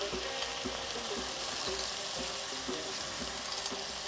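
Food marinated in fish sauce, soy sauce, chili and tarragon fries in a hot pan. A dense, steady sizzle holds throughout, with faint rhythmic scraping or tossing sounds beneath it.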